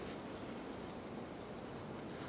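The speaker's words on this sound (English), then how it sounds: "Wind is all over the place." Steady broadband wind rushing through a cold forest near a smoky campfire, a continuous even roar buffeting close to the microphone with no distinct gusts or voices.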